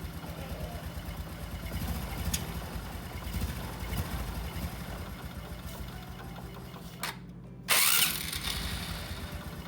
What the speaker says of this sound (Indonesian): hasilnya mesin sudah bisa bunyi atau running dengan sebagaimana mestinya